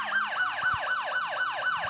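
Wailing police car siren in a motorcycle video game, sweeping up and down in a steady fast rhythm about four times per second, loud and close with a faint engine hum underneath.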